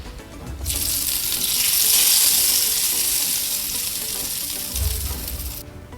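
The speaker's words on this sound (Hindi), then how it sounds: "अब गर्मा गर्म तड़का जाएगा दाल के ऊपर।" A loud, steady hot-oil sizzle bursts up as a spice tempering with Kashmiri red chilli is poured onto dal, hissing continuously for several seconds before cutting off abruptly.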